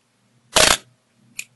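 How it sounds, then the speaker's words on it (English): A loud mechanical clack of an SLR camera shutter at 1/1000 second as the mirror flips up, then a softer second click close behind, recorded up close in a quiet room. "You see the mirror flip up out of the way."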